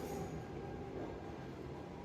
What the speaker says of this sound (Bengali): ট্রেন চলে এসেছে প্রচুর সাউন্ড ট্রেনে